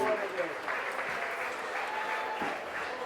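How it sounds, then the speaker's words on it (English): Crowd applause at a polo match for both teams after the final horn, a steady wash of clapping filling the whole stretch, with a voice talking faintly over it. "Let's give both these teams a round of applause."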